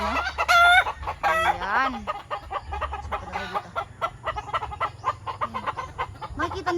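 White Kelso gamefowl roosters at a farm crow loudly near the start, then cluck in a rapid, busy chatter. Someone speaks briefly near the end.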